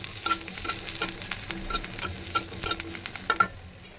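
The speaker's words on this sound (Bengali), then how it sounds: "তো রসুনটাকে সরিষার তেল দিয়ে ভেজে নেব।" Garlic sizzles in hot mustard oil, with a soft continuous crackle broken by repeated light scrapes and clinks of a spoon stirring the pan.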